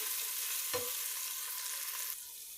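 Ingredients for chickpea pulao sizzle and fry in a pan, a dense steady hiss broken by a single scrape of stirring, with no voices.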